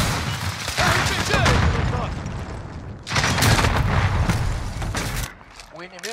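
An RPG blast and heavy gunfire in Call of Duty Modern Warfare make a dense, loud barrage of shots and booms that drops off briefly, then returns before fading. Game voice callouts come through over the combat.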